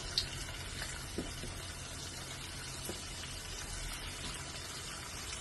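Biscuit appam batter fries in hot oil with a steady, even sizzle and occasional faint pops and taps, no voices over it.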